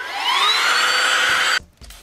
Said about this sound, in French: J'ai trouvé également ce superbe petit aspirateur.